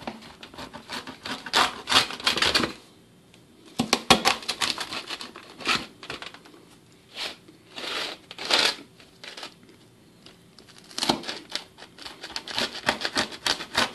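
A knife or cutter crunches through a crispy-crusted frozen pepperoni pizza in repeated bursts of cracking and scraping, separated by short pauses.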